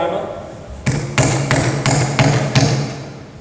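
A real hammer strikes a phone case filled with impact-protection goo, five sharp, fairly loud knocks in a steady rhythm after a brief pause, with a low resonant ring under each hit.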